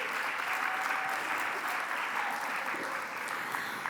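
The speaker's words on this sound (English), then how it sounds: "Give them a round of applause." An audience at the NT Performing Arts Awards at a Doubletree Hilton gives a round of applause. Continuous, even clapping holds at a steady level for several seconds, with no speech over it.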